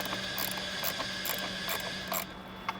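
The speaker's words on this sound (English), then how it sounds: "In order to take the stock airbox out of the vehicle, you just have to remove this 8mm bolt back here" A ratchet loosening an 8mm bolt on the stock airbox of a 2011-16 Ford Powerstroke 6.7L diesel truck, a run of quick, light clicking strokes close up, ending with a couple of small metallic taps.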